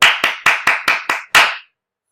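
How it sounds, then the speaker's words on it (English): A group clapping in a call-and-response pattern during a staff training session: seven sharp, loud, unison claps, the first six evenly spaced and the last after a slight pause, then silence. "You can hear my voice, follow my clap."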